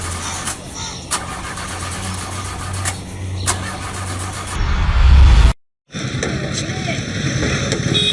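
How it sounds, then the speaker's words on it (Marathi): An auto-rickshaw engine cranks and catches, a low mechanical rumble rising to a loud roar before a brief cutoff, then a steady running engine drone for the last couple of seconds. "आजच्या दिवसात रिक्षा चालू होणार आहे का तुमची?"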